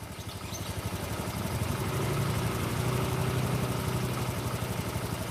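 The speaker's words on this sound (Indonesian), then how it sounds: "Walaupun secara pendengaran telinga ini motor halus, tapi sebenarnya di mesin dia itu nggak stabil" A motorcycle engine idles close by with an uneven beat, its low, rapid pulsing chug wavering slightly as it runs on alone for several seconds.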